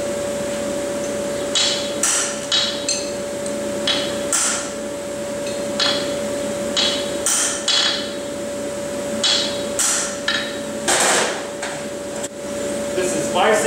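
Hammer marks hot horseshoe steel at the toenail marks, a series of sharp metallic taps in irregular clusters over a steady forge hum, fairly close and clear.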